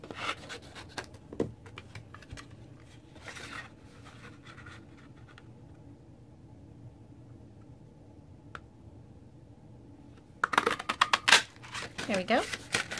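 Paper being trimmed for a handmade daisy stamped card, a run of close, crisp cutting and rustling strokes bursting loudly near the end after a quieter stretch of handling noise.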